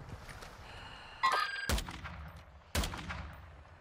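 Gunfire in Call of Duty Warzone DMZ, two sharp loud shots about a second apart with ringing tails, following a brief electronic chime, no voices.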